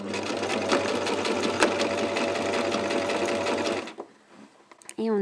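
A sewing machine stitches along a bloomer hem, whirring loud and steady for about four seconds, then stops, leaving quiet handling noises and a brief voice at the end.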